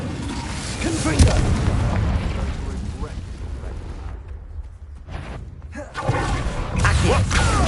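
A Confringo explosive spell in Hogwarts Legacy erupts in heavy, rumbling booms that roll on for seconds, dip into a brief lull, then swell again with fresh blasts.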